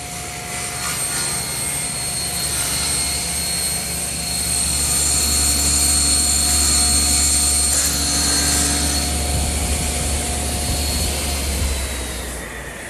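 A table saw cuts through a full sheet of plywood with a loud, sustained whine and a rising roar as the blade works through the 4-foot width.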